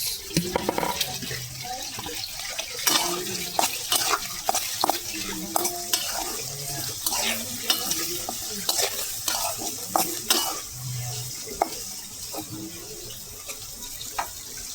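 Shrimp frying with chili in a pan while being stirred, the hot oil hissing continuously under repeated scraping and clinking spoon strokes, close-up and loud, with some faint background voices.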